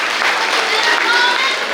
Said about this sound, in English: Just give them a round of applause for all of their contributions and efforts.